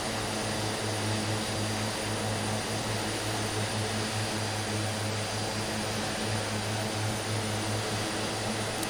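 Twin Otter twin propeller engines climbing after takeoff in Microsoft Flight Simulator 2020, a loud, steady droning hum with constant tonal engine notes and no talk.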